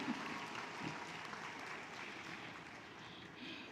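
At a Frontier Nursing University commencement, an audience applauds in a soft, continuous wash of clapping for a few seconds, fairly distant and even throughout.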